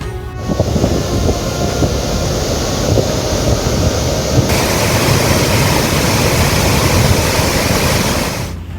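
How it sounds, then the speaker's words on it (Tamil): Aliyar Kavi falls in flood after heavy rain, a loud, steady roar of rushing water that fills the whole clip without letting up. "ஆழியாறு கவி அருவியில் வெள்ளப்பெருக்கு ஏற்பட்டுள்ளதால்"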